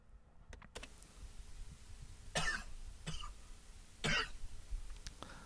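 A few sharp coughs, spaced out over a few seconds, close and fairly loud against a quiet room.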